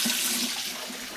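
Soaked sweet glutinous rice being rinsed in water for lemper, a steady rush of splashing, sloshing water close by, continuous through the short moment with no talking.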